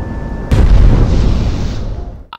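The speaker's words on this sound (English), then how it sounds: "Guns and explosions sound satisfying, and you can hear the sonic booms from your jet" Guns and explosions in the jet combat game Project Wingman: a sudden heavy blast bursts in and rolls on as a long, loud rumble, with a few sharp pops at the very end.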